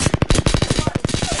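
Rapid automatic gunfire from a first-person shooter video game: a loud, fast burst of sharp, evenly spaced shots rattling continuously for over a second, with no talk.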